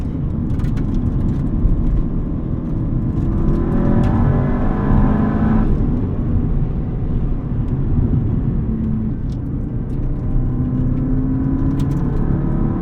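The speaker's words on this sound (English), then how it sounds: "Such an incredible experience to drive an EJ207 motor from Japan." A 2003 Subaru WRX STi S202 with a Japanese EJ207 engine is heard from inside the cabin while driving. A loud, steady engine drone and road rumble carry throughout, and the pitch rises and falls with a brief surge as the car pulls.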